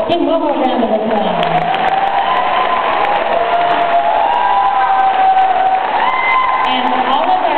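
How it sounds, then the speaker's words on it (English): Audience applause and cheering for a school choir's performance, a steady wash of clapping mixed with crowd cheers and whoops that holds at full level throughout, recorded on a poor-quality camera. "one more round of applause."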